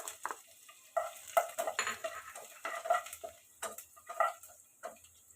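Spatula stirring chopped ginger and garlic through hot oil in a pan, a run of close scraping clinks and light taps with a faint sizzle underneath, no voices.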